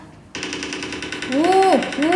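Rapid, evenly spaced pistol shots from a mobile shooter game on a Huawei MatePad, loud and close, firing in a steady burst while a voice speaks over the latter half.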